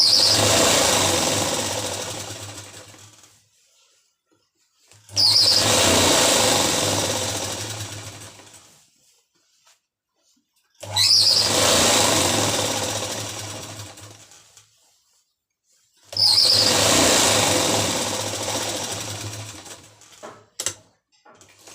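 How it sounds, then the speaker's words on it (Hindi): A sewing machine stitches elastic gathering into palazzo pants in four loud, steady runs of about four seconds each, separated by brief silent pauses, close and clear with no talk. "यहाँ से इसको खींच के इसमें सिलाई लगानी है।"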